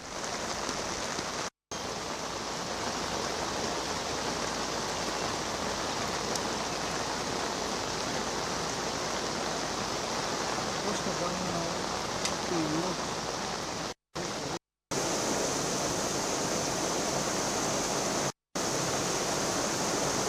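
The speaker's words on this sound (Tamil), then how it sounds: "கனமழையாக மழை பொழிந்து கொண்டிருக்கின்றது." Heavy rain pouring over villages around Vikravandi, a steady dense hiss of downpour lasting throughout, loud and even, with a few brief dropouts and a faint voice underneath at one point.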